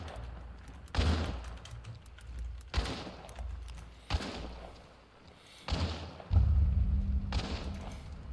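Several sharp gunshots from a first-person video game ring out in separate bursts, each a loud percussive crack with a thudding tail, the last followed by a heavier sustained rumble.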